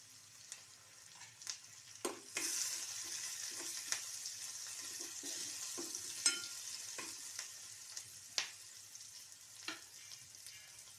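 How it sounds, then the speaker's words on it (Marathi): Garlic fries with spices in a hot pan while preparing a ghevda and potato vegetable dish, giving a steady sizzle broken by repeated sharp clicks and scrapes of stirring, close and moderate with no voices. "लसूण घातल्यानंतर हे मसाले घालायचे"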